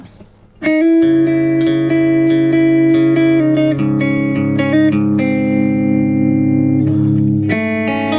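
A BOSS eBand JS-10 produces a generic clean electric guitar tone, with a series of bright, sustained notes and chords ringing out loudly and alone after a short quiet start.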